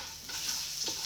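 Garlic sizzling in a hot pan for date night pasta while being stirred and swirled around, a steady close hiss with faint scraping, heard alone without talk.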